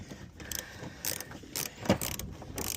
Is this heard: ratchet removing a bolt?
yes